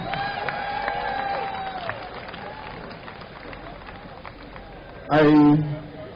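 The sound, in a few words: audience applause and cheering at reception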